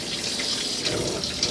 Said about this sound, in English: should you have your pump on, you'll get pressurised water